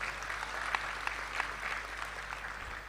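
A seated audience applauds steadily at a Gujarati poetry and talk evening, a continuous soft wash of clapping heard from a distance with no pauses.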